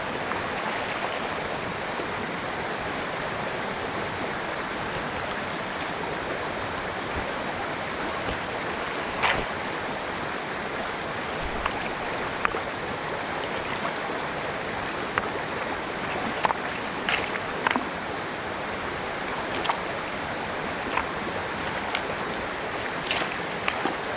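River water flowing steadily over a blockage, a continuous broadband rush with occasional small splashes and ticks, moderately distant and unbroken throughout.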